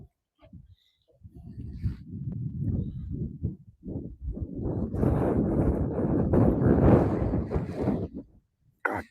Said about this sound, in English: God damn this wind all of a sudden.